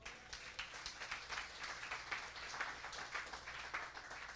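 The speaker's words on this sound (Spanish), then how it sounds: "Denle un aplauso al Señor." Church congregation clapping during a worship service, a rhythmic, pulsing beat of many hands in unison, quiet and somewhat distant, continuing steadily.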